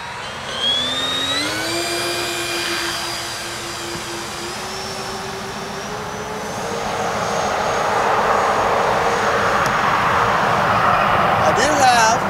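The twin electric motors of an E-flite Twin Timber radio-controlled airplane whine up in pitch and hold a steady tone as it takes off with flaps set, the noise growing louder and rougher toward the end.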